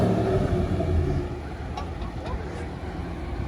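A Shelby GT500 engine runs with a heavy, steady low rumble close by, its level easing slightly after the first second and holding without a sharp rev spike.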